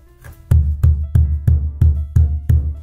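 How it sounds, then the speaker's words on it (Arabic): Deep doum bass strokes on a hand drum, struck just above the center of the head, land in a steady even rhythm, seven or eight resonant booming hits close up with nothing else heard. "هذا صوت الدم"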